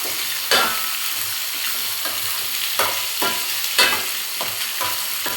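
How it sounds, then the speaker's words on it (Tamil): Onions sautéing with chana dal and urad dal in a pan, a steady sizzle broken by repeated stirring scrapes, close and continuous, with no talking. "வெங்காயம் நல்லா கொஞ்சம் வதங்கட்டும்."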